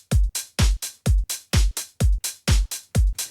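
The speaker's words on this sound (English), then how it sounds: "kick, snare, clap, open hat, and closed hats" A punchy programmed drum loop with deep kicks and sharp snare-clap hits, driven by a tight, steady, repeating pattern that stays loud and upfront.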